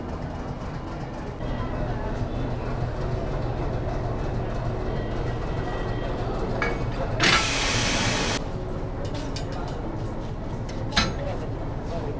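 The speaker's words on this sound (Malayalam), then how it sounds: "ഈ എഞ്ചിൻ മാറ്റുന്ന പ്രോസസ്സ് തന്നെ കണ്ടിരിക്കാൻ അടിപൊളിയാണ്" Engine change on the Nilgiri Mountain toy train near Ooty: continuous rumbling railway machinery with clanks and mechanical hums, a burst of loud hissing air partway through, and voices in the background.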